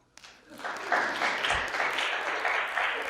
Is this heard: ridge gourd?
no